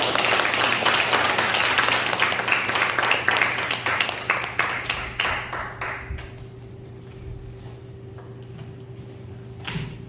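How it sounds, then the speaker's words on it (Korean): Congregation applauding to welcome a speaker at a Sunday evening church service, dense clapping that swells for about five seconds and then thins out into scattered claps over a low room hum. "우리 박수로 환영하겠습니다."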